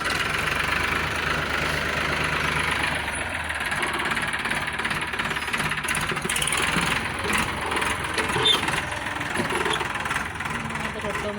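A tractor engine fitted with a rotavator runs steadily at a near, even idle-like drone throughout, with a person talking over it.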